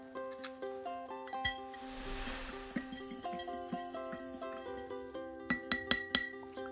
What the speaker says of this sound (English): Use a spoon now to stir it round and round.